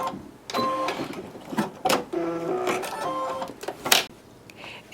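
A sewing machine makes short, slow bursts of zigzag stitching to bar-tack a ripped belt loop on jeans, with whirring runs and mechanical clicks separated by brief pauses.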